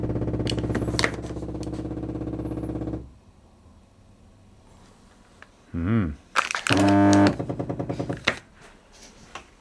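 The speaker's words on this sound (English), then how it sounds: "We shall start opening the ink cartridges." Plastic packaging for eufyMake E1 printer ink cartridges crinkles and crunches in a few close, sharp bursts near the end, after a steady machine hum that stops and leaves a quiet gap.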